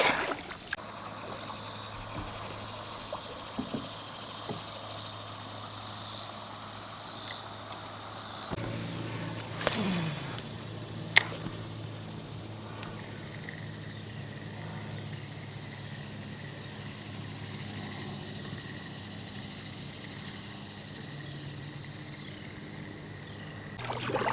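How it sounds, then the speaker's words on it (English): A kayak drifts on the Hiwassee River with quiet water lapping and trickling under a steady chorus of insects, with one brief knock partway through. "the main reason I'm out here today is just to give the kayak a test run"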